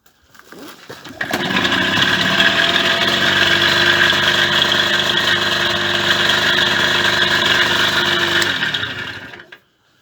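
A small Yamaha DT 50MX two-stroke motorcycle engine starts and runs warm for about eight seconds, a steady close buzzing idle with a brief throttle blip, before cutting out cleanly.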